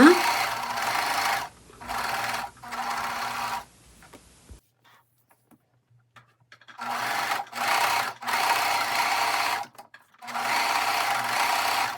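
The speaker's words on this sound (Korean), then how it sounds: "주머니를 밑부분을 오버록 스티치로 마무리를 해줍니다." An overlock sewing machine finishes the bottom edge of a sweatpants pocket in loud running bursts, stopping for a few seconds before several more stitching runs, with no talking.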